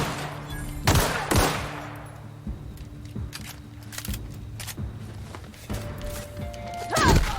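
Assault rifle gunfire in The Outer Worlds: a few sharp, loud shots at irregular intervals, spaced among softer game effects and a low steady hum.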